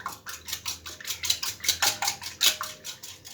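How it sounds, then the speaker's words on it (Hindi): Eggs being whisked in a bowl for suji and egg halwa: rapid, rhythmic clinking of a utensil against the bowl, about five strokes per second, close and fairly loud, with no talking. "सबसे पहले हम इन अंडों को फेंट लेंगे"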